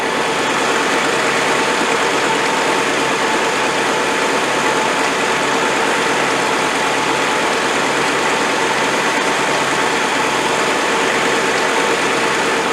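A 1985 ex-NATO Land Rover 110 V8 engine idles high, a steady, loud drone without a break, a constant mechanical hum with no voices.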